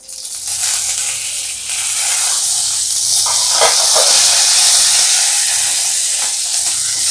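Pepper, almonds and curry leaves fried in hot ghee for a tempering hiss and sizzle loudly and steadily up close, with a sharp crackle burst midway and no speech.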